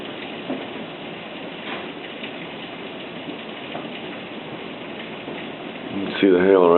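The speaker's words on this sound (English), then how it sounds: "And those are about marble-sized hail coming down." Marble-sized hail falling during a Texas hailstorm, a steady dense patter and rattle on surfaces, with a louder burst of noise near the end.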